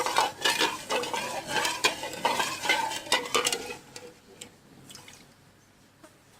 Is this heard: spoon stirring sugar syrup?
yes